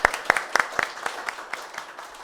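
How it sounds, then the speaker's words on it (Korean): An elderly audience at a seniors' welfare center talk concert claps, a few sharp separate claps up front thinning into soft, sparse clapping that fades quickly. "우리 시민 선배님께 감사드리며 박수 드리고 싶습니다."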